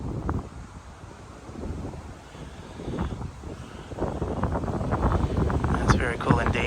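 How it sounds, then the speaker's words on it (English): Strong outdoor wind buffeting the microphone, a rough rumble that grows louder and denser toward the end, with a person talking underneath. "just because the wind has been that strong"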